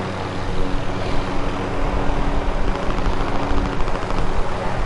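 Dense, loud gunfire from Call of Duty Warzone, a trio match, rattling almost without pause as bursts overlap with vehicle-like rumble and other game noise throughout.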